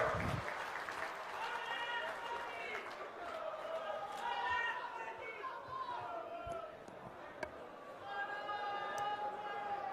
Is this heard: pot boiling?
no